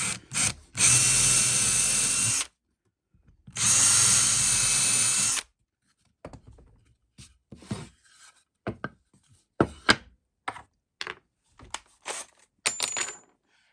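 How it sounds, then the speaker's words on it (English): A power drill whirs loudly through wood, drilling a 4mm hole, in two sustained bursts separated by a pause, followed by a series of short clicks and knocks. "I'm going to drill from this side so that I know they're perfectly central."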